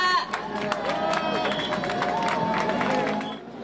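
A crowd at an outdoor campaign rally for Seoul mayoral candidate Oh Se-hoon cheers and shouts loudly as he takes the stage, a dense, continuous roar of many voices with scattered clapping that fades slightly at the end.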